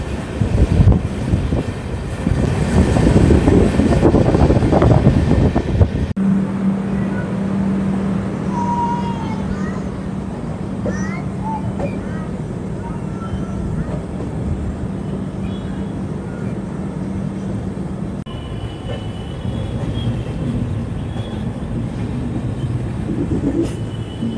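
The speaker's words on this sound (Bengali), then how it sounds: "রানাঘাট ক্রস করার পরে আমাদের ট্রেন এখন স্কিপ করে বেরোবে কল্যাণী স্টেশন" Sairang Kolkata Express rolls along after passing Ranaghat, a steady rumbling run with wheel and carriage noise; loud broadband roar at first, then a quieter continuous hum with a faint droning tone.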